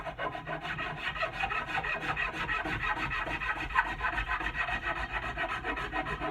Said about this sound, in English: So again, you're just smoothing out all those gouge marks.